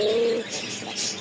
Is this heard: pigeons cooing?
yes